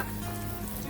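Cireng, a tapioca snack, frying a second time in plenty of hot oil over medium heat, giving a steady, quiet crackling sizzle with no talk.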